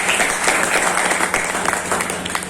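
A crowd at a book launch applauds in a brief, full burst of clapping that stays steady and close from start to finish, with no voices on top.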